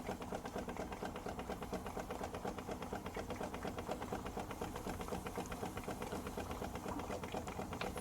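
A Stuart Turner S50 model steam engine runs on a temporary hybrid steam plant fed through rubber hoses. It gives a fast, even, ticking chuff that keeps going without a break, faint and steady throughout.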